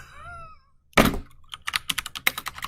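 Fingers type on a computer keyboard, starting with a heavy thunk and followed by a rapid, irregular run of sharp key clicks, close and fairly loud.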